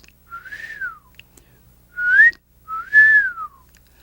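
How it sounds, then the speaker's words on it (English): Three clear human wolf whistles, each a rising then falling pitch sweep, close and loud, with brief pauses between them. "a wolf whistle"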